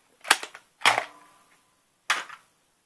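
A toy laser gun fires three sharp, loud shots close by, two in quick succession and then one after a short pause, each a crisp snap with a brief ringing tail and no talking.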